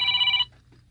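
A cellphone's electronic ring sounds clearly for a brief moment, close and steady, then stops abruptly into quiet room tone.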